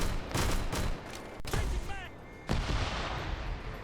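Gunfire in a military video game, Zeus-led Eastern Push mission with the 31st Steel Legion in a winter setting: bursts of shots and volleys, a sharp crack near the middle, and a loud burst near the end, with game chatter underneath.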